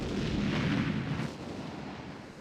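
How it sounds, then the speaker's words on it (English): Missiles explode in the PS2 video game Steambot Chronicles as a dense, loud, rumbling blast that holds for about a second and then fades into a duller roar. No talk. "Oh no! Missiles!"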